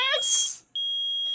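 An electronic metal-detector beep sounds in the Phoenix Wright: Ace Attorney courtroom game, a steady high tone after a short burst of voiced mimicry; a voice imitates the beeping just before the sustained electronic tone.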